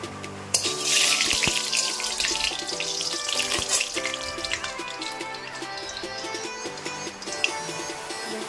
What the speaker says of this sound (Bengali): তেলটা গরম হয়ে গেছে, তেজপাতা দিয়ে দেবো দুটো, এবার দারচিনি আর এলাচি দুটো আস্তে আস্তে দিয়ে দিচ্ছি